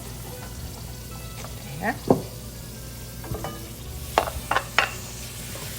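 Sant'Anna green beans and tomatoes tipped into a hot pan, sizzling and frying steadily with scattered clinks and stirring sounds; a voice speaks briefly.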